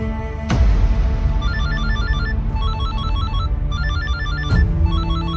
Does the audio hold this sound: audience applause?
no